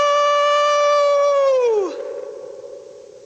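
A long howl from a werewolf, a sustained harmonic cry held steady before it bends sharply downward and fades into a softer, breathy tail, close and loud with no talk.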